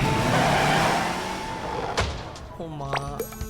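Car engines race and rev in SpongeBob The Cosmic Shake, a loud, dense roar that fades and thins, with sharp game effects and tonal chimes toward the end.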